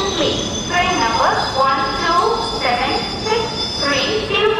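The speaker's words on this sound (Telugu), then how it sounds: "Padmavati super fast express platform number 4 per ఆ గయి హై" A Padmavati Superfast Express train arriving at a station platform gives off sustained metallic wheel squeal in repeated rising and falling tones, loud and close, with a voice talking over it.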